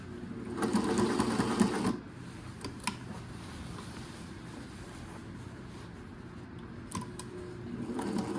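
A sewing machine stitches chevrons onto dress blues, running in a fast steady hum for a couple of seconds, pausing, then starting up again near the end, with faint handling clicks in between.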